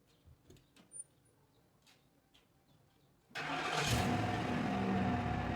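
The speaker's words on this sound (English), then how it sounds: "Pulling this truck out with my Crown Vic here." A Ford Crown Vic, used to pull a 1966 Ford F100 truck, fires up after a few faint clicks and knocks, then settles into a loud, steady engine drone close by.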